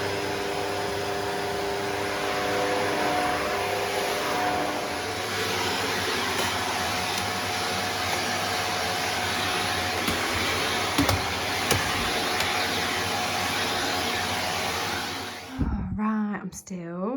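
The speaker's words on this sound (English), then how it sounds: "I'm still vacuuming." A vacuum cleaner hoovers a home floor with a continuous loud whine and rushing drone that runs for many seconds, then cuts off abruptly near the end.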